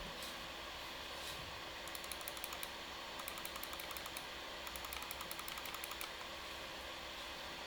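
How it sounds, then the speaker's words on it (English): A faint steady computer fan hum from an Alienware Alpha R2 runs throughout, with bursts of quick light mouse clicking coming in short clusters. "you can compare the fan noise to the sound of my mouse clicks"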